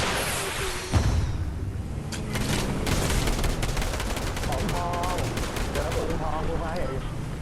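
A rocket launcher fires during a Fortnite match amid dense gunfire crackle and a sharp launch thump near the start, with continuous loud shooting throughout.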